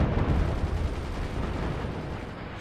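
Cannon fire and explosions in the strategy game Forts sound as a dense, rumbling burst of booms that is loudest at the start and then rolls on as a continuous heavy roar.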